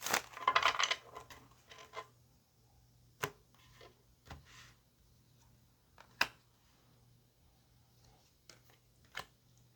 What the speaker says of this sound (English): So let me get a good shuffle here